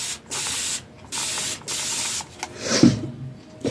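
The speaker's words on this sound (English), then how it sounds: "let's give it a little mist first" Distress Oxide spray ink misted onto paper in a series of short, close hissing bursts separated by brief pauses, with a busier spray and clatter toward the end.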